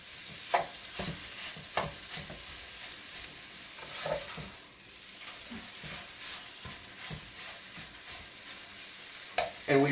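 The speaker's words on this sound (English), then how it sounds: "We're going to keep browning." Lamb pieces brown in a hot pan for stew, sizzling and frying at moderate volume with intermittent stirring scrapes and clatter, close and without speech.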